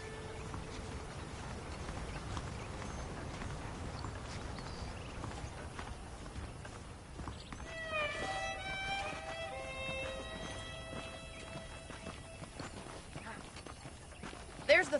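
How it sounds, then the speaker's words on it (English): Horse hooves clip-clop steadily in Red Dead, a Western video game, at a quiet, even walking pace under game music and ambience. "The horses are saddled up over here."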